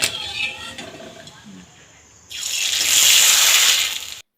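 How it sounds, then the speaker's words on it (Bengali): Homemade tomato papad is dropped into hot oil and bursts into a loud, steady sizzling hiss after a quieter start with faint kitchen clatter. "এবার আপনাদেরকে আমি পাঁপড়গুলি ভেজে দেখাবো"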